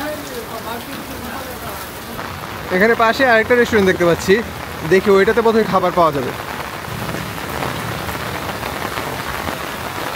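Rain falls on a restaurant roof in a steady close patter, continuing beneath someone talking in the middle of the stretch.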